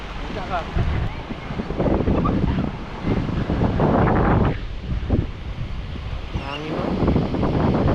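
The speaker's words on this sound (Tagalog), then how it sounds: "Hangin, no?" Strong sea wind buffets the microphone on the shore at Burias, a continuous roaring gust with surf-like noise underneath, while people chat nearby throughout.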